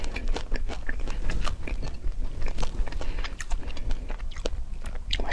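Close, crisp crunching of someone biting and chewing lemon after eating miracle fruit, with irregular wet bites and chews repeating steadily with almost no talk.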